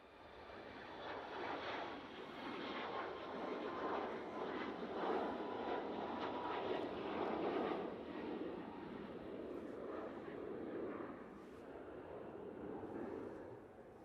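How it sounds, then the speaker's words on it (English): A Ryanair Boeing 737 MAX 8 jet rolls for takeoff at Manchester Airport with a broad, steady engine roar that swells and then holds. It is heard from a distance and no one talks. "On the roll now, using the 737 MAX 8."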